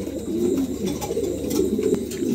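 Pigeons coo close by in a bird enclosure, giving a low, continuous, throaty rolling with no talk.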